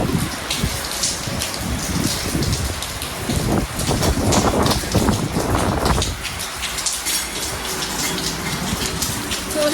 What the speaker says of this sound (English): It has been continuously raining.